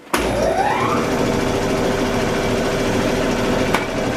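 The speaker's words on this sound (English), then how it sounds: "this is our compressor, yeah." A steady mechanical hum and whine runs throughout from a large air compressor working close by in a woodworking shop, with a brief sharp click near the end.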